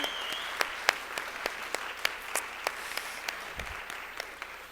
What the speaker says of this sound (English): So we're going to clap again for Kimberly.